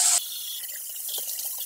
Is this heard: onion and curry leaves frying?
no